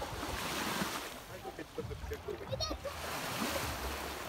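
Sea waves wash against a beach on Thassos, Greece, a steady surf wash with splashes and some wind noise on the microphone, with voices murmuring in the background throughout.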